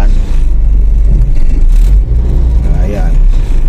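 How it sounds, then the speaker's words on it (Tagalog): Heavy traffic on Centennial Road, many cars, trucks and buses rumbling and passing close by in a loud, continuous roar with engines revving, heard from inside a vehicle. "Tumindi na rin ang traffic dito mga agawad sa dami ng mga sasakyan na dumadaan."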